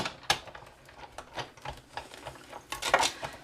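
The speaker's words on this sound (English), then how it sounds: "And then I'm going to slide that into the big shot to cut that." A Big Shot die-cutting machine feeding card through its rollers gives a run of close clicks and mechanical clatter, some irregular and some in quicker bursts, fairly quiet with no talking.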